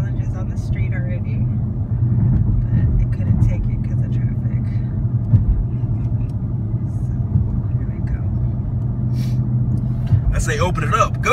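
A Dodge Scat Pack engine rumbles low and steady from inside the car while it is driven, with people talking quietly over the constant drone.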